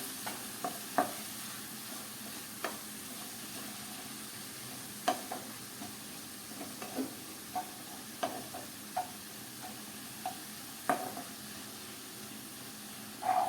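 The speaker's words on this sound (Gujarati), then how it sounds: "હવે આપણે પાલકને સારી રીતે વઘારમાં મિક્સ કરી લઈએ અને થોડી આપણે કૂક કરી લઈએ" Spinach being stirred into hot oil tempering in a pan, with a steady low sizzle and irregular scraping clicks of the spoon against the pan, close and moderately loud, no talking.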